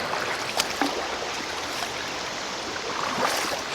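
A shallow creek current flows over rocks in a steady, close hiss of running water with a few faint splashes.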